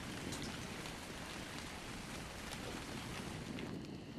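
Rainfall in the video game ARK, a faint, steady wash of raindrops and wind-like noise with no distinct events and no talking.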